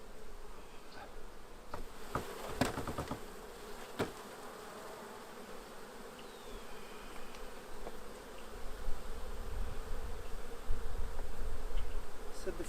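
Honey bees buzz around an opened hive frame holding brood and food, a steady close drone of many insects with a few louder passes near the microphone and no talking.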